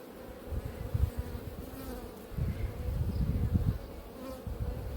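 Dense, agitated buzzing of many honeybees close by in an opened hive, a low droning hum that swells and pulses, with no voices.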